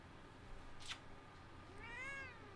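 A pet cat gives two short meows, the second longer and more drawn out, faint and close against a quiet room background.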